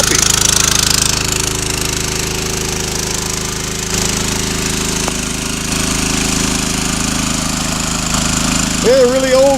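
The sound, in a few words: old Keene suction gold dredge engine running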